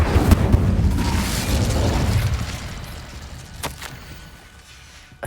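Incendio fire spell cast in Hogwarts Legacy, a loud whooshing burst with a rumbling roar that slowly decays, followed by a few sharp clicks and a final pop.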